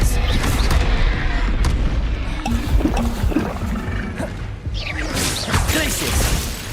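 Expelliarmus spell cast in the Hogwarts Legacy video game: a steady, dense burst of magical combat sound with booming impacts and crackling energy, loud and continuous with a brighter whoosh near the end.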